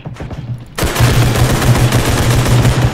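An AK rifle in the realistic shooter Bodycam fires a loud, close, continuous automatic burst, rapid rounds blurring into a dense roar after a short quieter lead-in.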